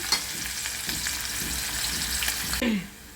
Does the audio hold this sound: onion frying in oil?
yes